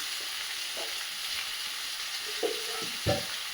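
Chili powder and turmeric frying in a pan, a steady bright sizzle throughout with a few soft spoon scrapes and clinks near the end.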